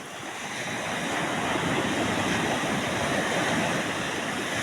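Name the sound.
big ocean waves crashing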